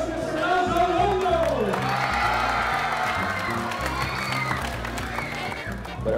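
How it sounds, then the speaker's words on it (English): A crowd at an outdoor basketball clinic in the Philippines cheers, whoops and applauds, a loud, continuous wash of clapping and shouting, with a voice heard briefly near the start. "Let's give a warm round of applause to Rajon Rondo"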